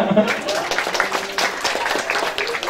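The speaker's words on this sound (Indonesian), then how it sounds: "Ya tepuk tangan dulu lah" Audience applause at an Indonesian community talk gathering, steady dense clapping throughout the short stretch, mixed with murmuring voices.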